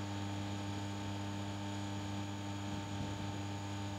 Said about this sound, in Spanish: no sé si el micrófono logra captar ese ruido, esa estática eléctrica